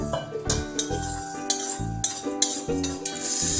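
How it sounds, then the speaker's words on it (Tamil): Urad dal dry-roasting in a pan for homemade kulambu podi, stirred with a metal spoon that clinks and scrapes against the pan in quick, irregular strokes, close and clear, with no talking. "அடுத்தது உளுத்தப்பருப்பு போட்டு வறுத்துக்கிறேன்."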